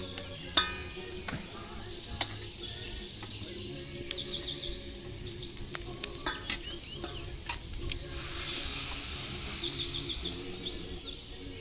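Onion and tomato fry with chicken in a pan, giving a steady sizzle with a few stirring clatters that swells louder near the end, while birds chirp faintly in the background.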